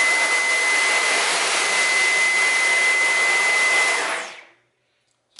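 A Dyson V11 stick vacuum runs on boost mode, a loud steady high-pitched whine with a sustained tone for about four seconds, then spins down quickly into silence; no talking.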